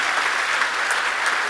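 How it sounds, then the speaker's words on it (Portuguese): A church congregation applauding loudly and steadily, a dense wash of many clapping hands sustained throughout without a break. "aplauda Ele mais alto que você puder"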